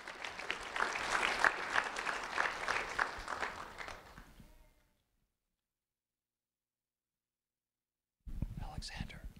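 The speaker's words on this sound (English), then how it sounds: "a round of applause for Alexander Neese" A room full of people applauds for about four and a half seconds, a dense steady patter that tapers off into silence, followed by a louder burst of sound near the end.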